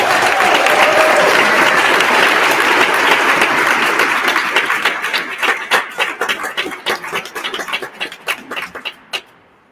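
A large audience applauds to welcome the next speaker at an event in the Massachusetts State House, a loud dense clapping that thins into scattered separate claps before fading out.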